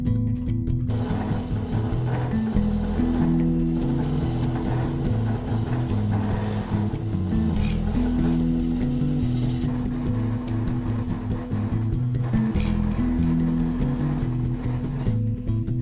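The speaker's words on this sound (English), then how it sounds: "I mount this to the lathe in a chuck, and I turn it round and prepare the top surface for the next ring" A wood lathe spins a segmented maple bowl ring held in a chuck while its top surface is trued, giving a loud, steady motor drone with a low hum and faint tool scraping above it.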